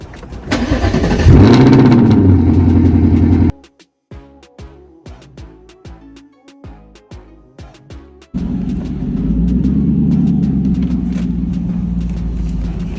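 A 2024 Ford Mustang GT V8 engine starts and revs loudly while driving, then a quieter stretch of rhythmic clicks, before the deep engine drone returns and holds steady.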